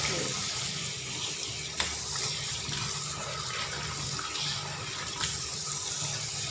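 Water from a tap runs steadily into a basin as soaked vegetables are washed, a continuous splashing flow with a few brief knocks and clatters, no speech.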